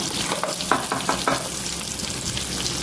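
Dried fish frying in a pan gives a steady, close sizzle, with a few short stirring scrapes early on and no talking.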